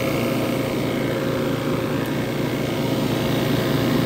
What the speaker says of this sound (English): refrigerant machine is pumping, taking all this refrigerant from here and putting in the recovery cylinder